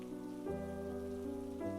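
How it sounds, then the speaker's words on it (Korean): Heavy rain pours down in a steady, dense hiss that runs the whole time, layered under sustained low droning musical tones that shift pitch twice. "날씨가 꽤나 우중충한 데다가 비가 세차게 내리는 중이었다."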